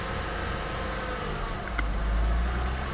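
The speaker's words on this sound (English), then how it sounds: "Let's see if she'll maintain an idle." A used diesel car won at a Copart auction idles steadily after being coaxed to run, a constant low engine rumble with slight rising intensity toward the end, close by.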